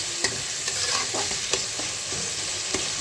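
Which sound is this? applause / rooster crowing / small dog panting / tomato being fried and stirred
tomato being fried and stirred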